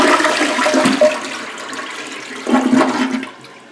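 A toilet on a septic line, just cleared of a backup, flushes up close, with a rushing swirl of water that eases off and then surges again before draining away.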